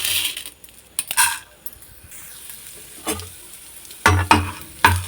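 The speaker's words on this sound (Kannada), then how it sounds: "ಇದೇ ಬಾಣಲಿಗೆ ಇವಾಗ ಕಡಲೆಬೇಳೆ ಹಾಕ್ತಾಯಿದ್ದೀನಿ." Chana dal dry-roasting in a pan alongside chillies for vangibath spice powder, with intermittent scraping stirs and clinks of a spatula over a faint crackle, quiet between strokes.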